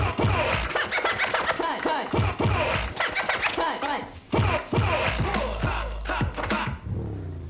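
A DJ scratches records back and forth on two turntables in a double-beating routine, producing rapid rhythmic cuts and scratch sweeps over a loud beat, with no speech.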